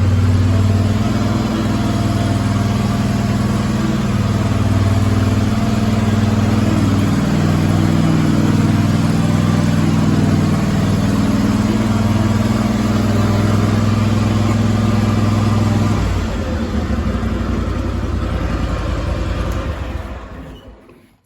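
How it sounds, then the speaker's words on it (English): A Cub Cadet 44 zForce zero-turn riding mower engine runs steadily and loud up close, with a deep droning hum that shifts lower partway through before fading out at the end. "so that's how you operate the zero-turn mower"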